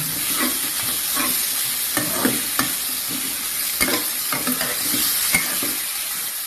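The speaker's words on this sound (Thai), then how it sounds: "ผัดก่อนนะครับ ผัดหมูก่อน ผัดให้หอม" Pork stir-frying in a hot pan gives a continuous loud sizzle, broken by regular scraping strokes of a spatula against the metal every half second or so, with no voices.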